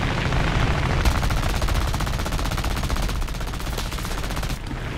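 Machine guns on an I-16 fighter plane in the War Thunder air combat game fire in loud, sustained rapid bursts over a roaring engine drone, with a brief pause near the start.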